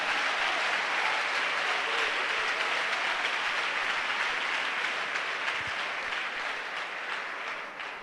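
A church congregation claps and acclaims Jesus, dense, steady applause filling the room throughout and thinning slightly toward the end, with no clear talk over it.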